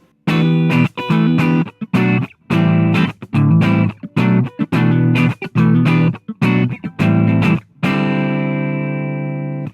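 Lightly overdriven electric guitar through a sag pedal, bridge and neck pickups together, with a crunchy breakup edge, choppy rhythmic chords ending on a sustained ringing chord that slowly fades.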